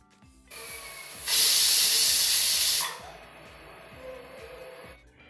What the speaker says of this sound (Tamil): குக்கரில் கொஞ்சமாக எண்ணெய் ஊற்றி அதில் கட் பண்ணி வச்சுருக்கிற இஞ்சி பூண்டு வெங்காயம் தக்காளி எல்லாத்தையுமே ஆட் பண்ணி கொஞ்சமாக உப்பு போட்டு மூடி வச்சு 2 விசில் வச்சு எடுத்துக்கிட்டேன்